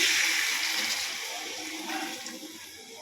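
Water left from boiling potatoes poured into a pot of potato and pointed gourd curry, a loud rushing splash that slowly tapers off as the pour ends.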